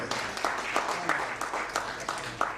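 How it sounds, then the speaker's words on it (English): Audience applause at an industry launch event in India, a dense patter of many hands clapping at moderate distance, steady throughout. "Big round, big applause."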